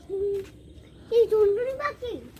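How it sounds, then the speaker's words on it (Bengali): Hooting bird calls ring out nearby, a short low note followed by a longer wavering call and a brief falling hoot, over quiet background. "কত সুন্দর পাখি ডাকছে দেখ"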